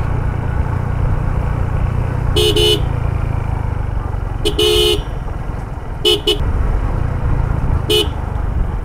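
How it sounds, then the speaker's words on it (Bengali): A vehicle horn toots several times, mostly in quick double blasts, loud and close over a steady engine rumble, on a winding mountain road between Thanchi and Tindu. "হর্ন দিয়ে যেতে হচ্ছে।"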